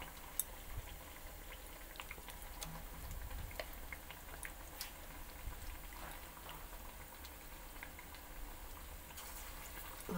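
Potato chops frying in hot oil, an even bubbling sizzle that holds steady throughout, quiet and close, with faint small pops and no voices.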